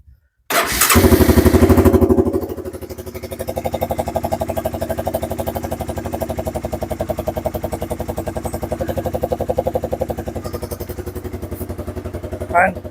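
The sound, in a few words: engine running and idling after carburetor cleaning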